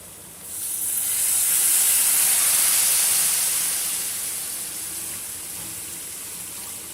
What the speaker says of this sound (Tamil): அந்த புளி தண்ணியை வந்து இதில் விட்டுடலாம்